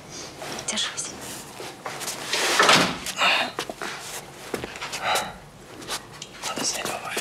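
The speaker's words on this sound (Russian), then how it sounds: "Кажется, надо закрыть дверь" A door is pushed shut with a muffled thud and rustling movement partway through, while people nearby speak in low, whispery voices.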